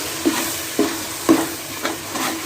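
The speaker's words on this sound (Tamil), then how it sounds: "இப்போ பாருங்கள் நல்லா தக்காளி வதங்கிச்சு" Tomatoes sautéing in a pan for mutton biryani, a steady sizzle broken by four or five scraping stirs spaced about half a second apart, close and clear with no talking.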